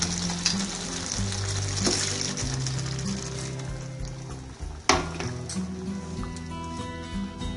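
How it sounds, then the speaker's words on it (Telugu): Loud sizzling and frying in a pan of chicken curry, with a sudden burst of hissing as a glass of water hits the hot oil, plus some stirring clatter. "ఇప్పుడు 1 గ్లాస్ వాటర్ వేసుకోవాలి."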